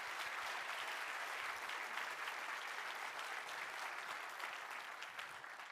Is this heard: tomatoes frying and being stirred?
no